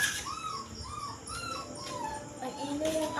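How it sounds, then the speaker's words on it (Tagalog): A dog whines and yips in short, rising cries at midnight, fairly close, over a steady background hum. "Ang ingay yung aso eh."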